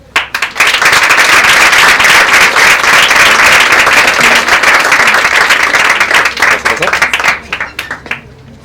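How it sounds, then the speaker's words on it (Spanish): A full audience breaks into loud, steady applause welcoming a licensed psychologist to the podium at a women's awareness and protection colloquium, dense clapping sustained for several seconds before thinning out near the end. "Por favor, recibamos un fuerte aplauso a la licenciada Elizabeth Sapien Guerrero."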